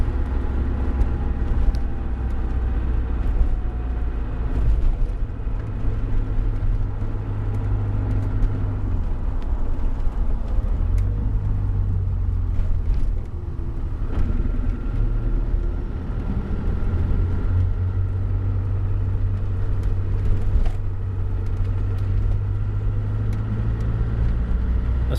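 A Land Rover Discovery running on waste vegetable oil drives and slows toward a junction. Its engine drones steadily from inside the cabin, the low hum rising and falling with speed.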